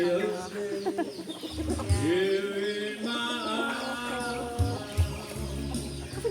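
Poultry clucks and calls near a tilapia fish pond, a run of close, repeated squawks with a few short thumps underneath.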